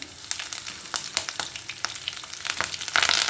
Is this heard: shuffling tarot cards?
no